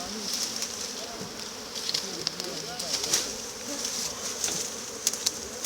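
Honey bees swarm around an opened beehive at an outdoor apiary in Guyana, their dense, steady buzzing close to the microphone, with occasional louder passes of individual bees and some quiet voices in the background.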